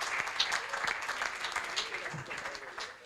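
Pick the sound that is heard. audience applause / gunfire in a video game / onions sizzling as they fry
audience applause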